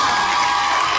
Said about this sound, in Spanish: ¡Un aplauso a Cuenca!